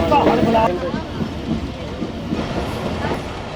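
Musa Pak Express railcar switching onto a loop line at a station, steady rumbling rolling noise with faint rhythmic wheel clatter over the points, continuous and close.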